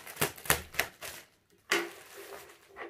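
A shipping parcel of comic books being cut and torn open, several sharp crackling rips of tape and packaging in quick bursts, then a pause and a longer tearing sound, close up with no talk.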